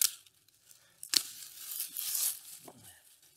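Shears cut back old, mushy hellebore leaves in a garden, giving a few close, crisp snips and rustling, tearing leaf sounds.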